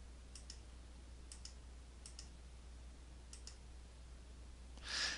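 A computer mouse clicking through AutoCAD labels one after another: four faint paired clicks spaced about a second apart, close and quiet over a steady low hum, with a brief louder rustle at the end.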